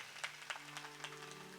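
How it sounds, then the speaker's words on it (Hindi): An audience at a five-day satsang gathering applauds in welcome. The clapping is faint and distant, with a few sharper claps standing out above a low steady hum. "एक बार जोरदार ताली रे द्वारा स्वागत करो।"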